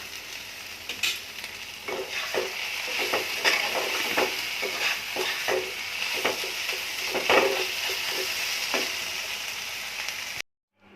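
Shrimp frying with taro leaves in a pan give a steady sizzle, broken by repeated sharp scrapes and clacks of a spatula stirring. The sound runs continuously and cuts off abruptly near the end.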